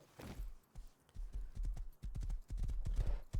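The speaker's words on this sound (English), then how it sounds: "We got another horse over here." Horse hooves clip-clop in the survival video game Rust as an irregular run of sharp, close thuds that keeps going throughout with no talking.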